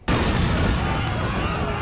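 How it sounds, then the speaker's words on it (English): A loud, sustained explosion roars through a fiery hologram duel scene in the Yu-Gi-Oh! Dark Side of Dimensions film, bursting in abruptly and rumbling broadly without pause. "So, this is a hologram, but the explosion was real?"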